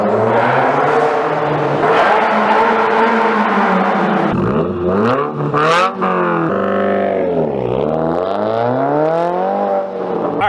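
A Subaru WRX driving with the windows down, its engine droning loudly as it climbs and falls in pitch through several gear changes, with road and wind noise steady underneath.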